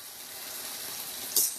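Burgers sizzle steadily in a hot frying pan, a bright crackling hiss with a sudden louder spatter near the end.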